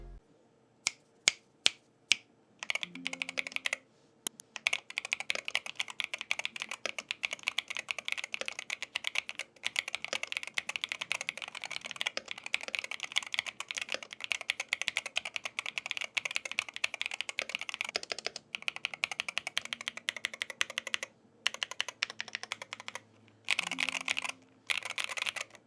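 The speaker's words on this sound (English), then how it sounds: "let's quickly check what about the sound of this keyboard" Fast typing on an EWEADN Battle68 magnetic-switch mechanical keyboard, close up, with dense clacking keystrokes, a few brief pauses, and some sharp isolated key taps at the start.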